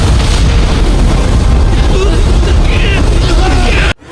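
An animated blast of demonic lotus flame, a loud, sustained, roaring burst with dense rumble that fills the space before cutting off abruptly near the end.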